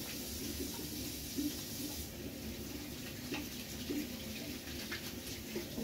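Tap water runs steadily into a sink while ice cube trays are rinsed, a continuous hissing wash with a few faint clinks and no speech.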